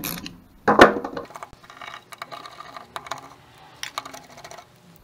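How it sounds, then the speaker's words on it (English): A hand ratchet loosening 8mm nuts on the back of a Bosch alternator during a home repair gives one sharp metallic clack, then a string of light clicking and rattling pawl sounds, close and fairly quiet, with no talking. "The nuts on the back of this are 8mm on this Bosch alternator. And I'll just undo these"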